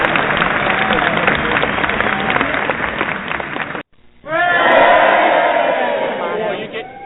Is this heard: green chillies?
no